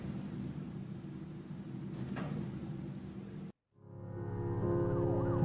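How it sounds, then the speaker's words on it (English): A police siren from the video game Her Story sounds as a faint, wavering tone that emerges after a brief cut to silence, layered over a steady low hum. "Sometimes I can hear like the police siren and it seems like the screen darkens for a second."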